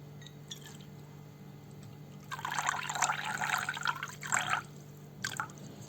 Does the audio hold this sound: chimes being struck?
no